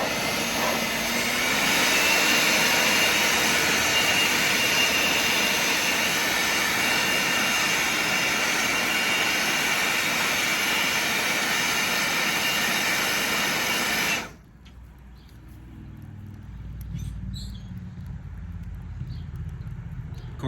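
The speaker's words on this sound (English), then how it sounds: "I'm gonna use this DeWalt leaf blower to kind of speed up the process on this chimney starter" A DeWalt leaf blower blasts air into a charcoal chimney starter on a Weber kettle grill with a loud, steady jet-like roar that cuts off abruptly near the end, leaving quieter background noise.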